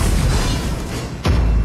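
A tower being destroyed in Arena of Valor (ROV) lands as a single deep boom a little past the midpoint of the clip, sitting over a dense, continuous bed of game audio.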